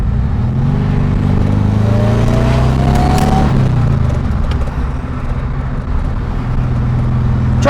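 A 1600cc VW Karmann Ghia engine with an AMR500 supercharger pulls hard at full throttle in third gear under heavy load, a loud, steady, close-up drone that holds without a break.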